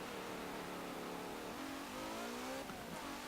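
A 2017 Maserati Levante S races down a straight at over 130 mph in Forza Motorsport 7, its engine a loud, continuous high-revving roar with the pitch climbing through the gears.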